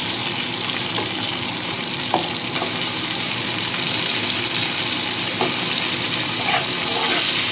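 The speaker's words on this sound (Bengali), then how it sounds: "তো ওর মধ্যেই আমি আলুগুলোকে ভেজে তুলে নিচ্ছি" Oil sizzles and bubbles steadily as potatoes fry, with a few faint clicks of a utensil against the pan.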